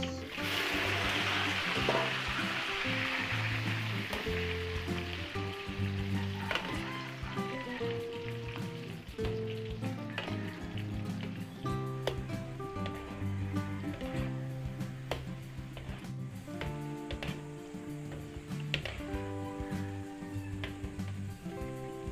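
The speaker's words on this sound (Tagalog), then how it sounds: "Prito tayo dyan ng patatas and carrots." Steady crackling sizzle of potatoes and carrots frying in hot oil, continuous and fairly loud, with a music bed playing underneath throughout.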